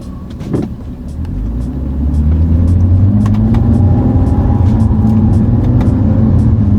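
A BMW 335i F30 with a ZF 8-speed automatic accelerating hard from a light, heard from inside as a loud, steady engine drone that climbs in pitch, with no talking.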